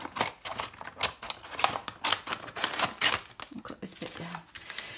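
Scissors cutting paper for a junk journal folio made from a repurposed envelope, a quick run of close crisp snips and paper rustles with a voice talking over them.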